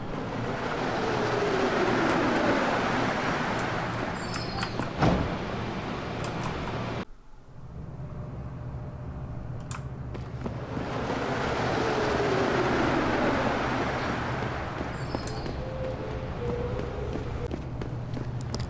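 Steady rumble of a subway train in Deus Ex: Human Revolution with rhythmic footsteps and clatter, dropping briefly to near silence midway before the rolling noise returns.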